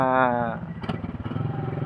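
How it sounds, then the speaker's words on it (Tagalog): A Bajaj RE 200cc three-wheeler in Tagaytay runs with a steady, rapid engine putter close by. A voice briefly overlaps the start. "Bajaj Re 200cc mga pare ko eh, dito sa Tagaytay umakyat."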